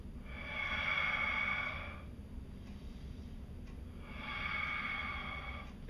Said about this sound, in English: get your breathing involved